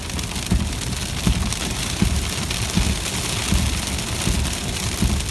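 Windshield wipers swishing in a rhythmic beat inside a car during a heavy hailstorm, with dense, constant hail and rain drumming on the glass and body.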